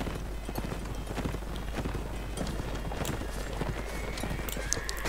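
Horse hooves gallop in a dense, fast clip-clop over constant loud battle noise in the Mount & Blade Warband game with an Ottoman mod, with occasional neighs and some faint speech mixed in.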